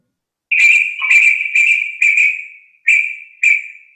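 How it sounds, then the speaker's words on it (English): Recorded bird calls: six bright, whistled chirps in a steady series, each note clear and close with brief gaps between them. "So that sound was of a bird"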